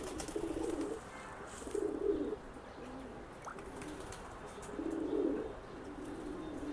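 Racing pigeons coo in a few distinct bursts, close and moderately loud, over a steady low background hum.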